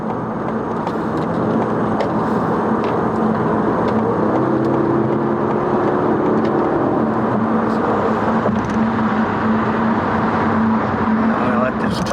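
Slow road traffic heard from inside a moving car, a continuous loud engine and road drone with tire rumble and other vehicles passing nearby, steady throughout.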